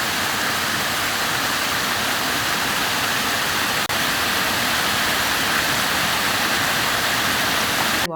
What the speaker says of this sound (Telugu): వాటర్ ఎంత ఫ్లో అవుతుంది.